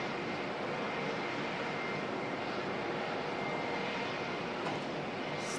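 A Qantas jet airliner in special livery at Auckland Airport gives a steady, broad engine roar that holds constant throughout, moderately distant with no talk over it.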